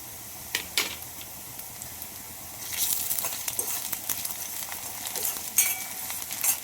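Ginger garlic paste frying in a pan over a medium gas flame, a steady sizzle with scraping stirs and sharp spatula knocks, close and without talk.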